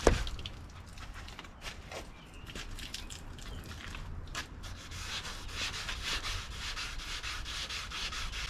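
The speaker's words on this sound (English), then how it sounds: "and get to wet sanding" Steady wet rubbing and scrubbing strokes of wet sanding on a Porsche Cayenne body panel, continuous and close, growing slightly louder toward the end.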